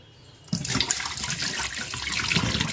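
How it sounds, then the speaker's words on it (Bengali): Hands washed under a running tap, water starting abruptly after a quiet moment and then splashing steadily and close, with no speech. "হাতটা ধুয়ে নিলাম"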